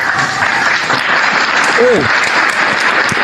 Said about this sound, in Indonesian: Tepuk tangan untuk Papa.